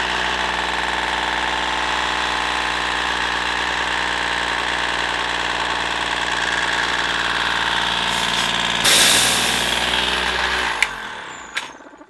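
Home-converted 12 volt compressor on rubber mounts running off a dead battery, a loud steady motor drone with mechanical chatter, then a hiss of air near the end before it winds down and stops.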